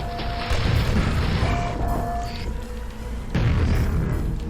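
Rocket launcher blasts and explosions in the classic shooter Quake: loud, booming bursts with rumbling crashes, two heavy surges separated by a brief lull, dense game noise throughout.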